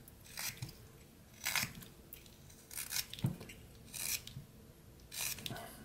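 A knife whittles a small wooden carving, trimming back the brim of its hat in a series of short rasping strokes, about five separate cuts spaced roughly a second apart, close and fairly quiet.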